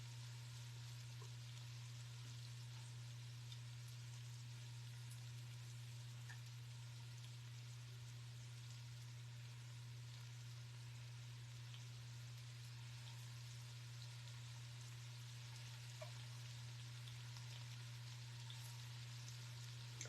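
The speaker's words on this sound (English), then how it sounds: "The pan frying the bottom of the dumpling is also going to help." Dumplings pan frying in a hot pan give a steady, soft, even sizzle with a low constant hum underneath, faint and unchanging throughout with no talking.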